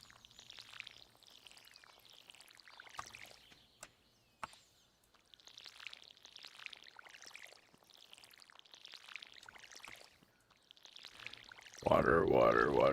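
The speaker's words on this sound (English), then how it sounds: "You get to hear the lovely sound of watering." Watering crops in the Stardew Valley video game: a repeating series of soft, tinkly splashing pours, one after another in a steady rhythm, with a louder burst of game noise at the end.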